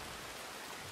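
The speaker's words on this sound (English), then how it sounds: "It's raining out here, bro." Steady rain in the video game Red Dead Redemption 2 hisses evenly as a dense, constant wash with no talking.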